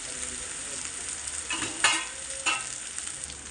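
Chopped ridge gourd frying in a pan for a mutton curry gives a soft, steady sizzle, broken by a couple of louder scraping stirs near the end, fairly quiet overall.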